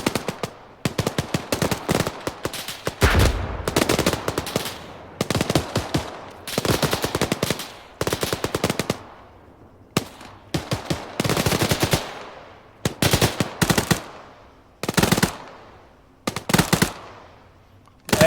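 Automatic gunfire from AI soldiers in the military video game Arma 3, loud close bursts of rapid shots in repeated volleys with short pauses between them, no talking.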